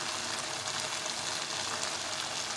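Nigella seeds, whole chillies and curry leaves frying in hot oil over a high flame, a steady, fairly loud crackling sizzle throughout with no voices.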